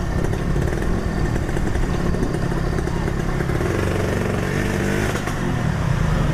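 A Suzuki Satria motorcycle engine runs steadily throughout, a continuous loud rumble with a slight rise in revs near the end, and voices faintly underneath.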